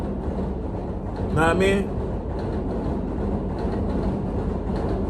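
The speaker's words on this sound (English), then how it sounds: "Let this train pass a little bit." A train passes nearby with a steady, heavy rumble that fills the background while someone talks over it. A brief whining tone rises near the start.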